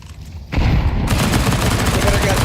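A grenade blast followed by sustained rapid gunfire in an esports match of a Counter-Strike style shooter, a sudden loud boom kicking off dense, continuous shooting that stays loud to the end.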